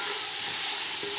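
Capsicum and other chopped green and red vegetables fry in a pan, giving a steady, close sizzle with faint stirring scrapes and no talking.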